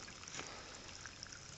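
Water trickles and pours steadily through a Sawyer water filter, a soft continuous stream heard faintly and up close.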